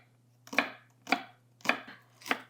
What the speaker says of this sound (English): Now I'm going to garnish with some green onions.